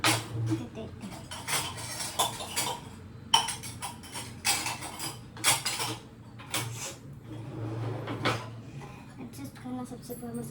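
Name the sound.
taking out washed dishes and setting them aside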